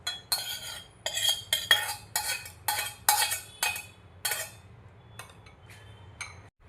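Cooked green pea dal is ladled into a bowl with a run of quick metallic scrapes and clinks in short bursts, then a few softer taps, close and fairly loud with no talking.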